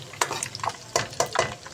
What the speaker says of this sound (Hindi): हल्का सा हम इसको घुमाएंगे ताकि जो अंडे हैं वो भी अच्छे तरीके से फ्राई हो जाए इसके साथ तड़के में।